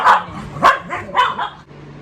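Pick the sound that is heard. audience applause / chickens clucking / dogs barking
dogs barking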